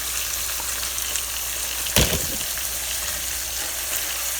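Pork loin frying in a pan, a constant close sizzle with one loud burst midway as the meat shifts in the hot fat.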